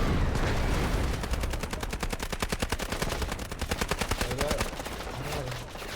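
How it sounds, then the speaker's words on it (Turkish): Rapid automatic gunfire from the video game Delta Force, with long sustained bursts of sharp evenly spaced shots that run nearly the whole time, loud and close, with faint voices underneath. "40 tane mermi sıktım adam."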